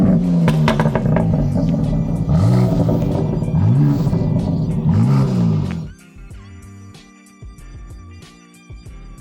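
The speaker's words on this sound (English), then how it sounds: "Now let's check out how the BMW X4M competition sounds." A BMW X4 M Competition engine and exhaust revving hard in repeated sharp bursts, rising and falling, then dropping to a lower idle rumble with faint clatter; close and loud, no talking.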